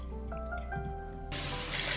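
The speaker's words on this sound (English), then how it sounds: "we just add cold water all the way up to more or less the top of the pot" Cold water pouring into a big stock pot of chicken stock ingredients with onion, starting with a low gurgling trickle and then surging into a loud, steady rushing hiss of flowing water.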